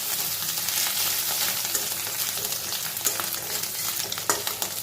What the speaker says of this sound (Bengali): আদা বাটাটা দিয়েও ফোড়নের সঙ্গে কিছুক্ষণ নাড়াচাড়া করে নেব